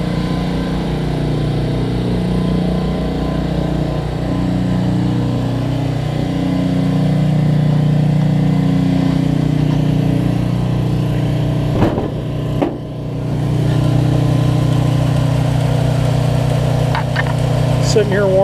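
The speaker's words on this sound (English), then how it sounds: "Sitting here warming up. I don't like to just start and stop the engine. It's running really nice and sweet." A 1960 Pontiac barn find with fresh paint sits warming up at idle, its engine holding a steady, even low rumble throughout, with a brief dip near the middle and someone talking over it.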